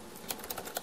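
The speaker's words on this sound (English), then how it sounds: "this is a lot of typing" Quick, uneven typing on a computer keyboard, with several sharp key strikes standing out from softer taps, close by and with no voices.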